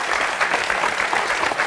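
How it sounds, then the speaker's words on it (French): Studio audience on a French television show applauding a world-record holder, a continuous dense wash of clapping from many hands throughout. "on peut vous applaudir"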